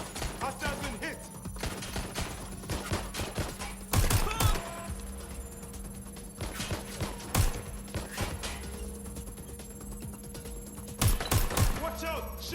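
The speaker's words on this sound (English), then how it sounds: "Watch out! Shots fired!" Repeated gunfire in a firefight in Watch Dogs Legion, sharp loud bursts of shots clustered in volleys with gaps between, over a steady game background hum, with occasional voices in between.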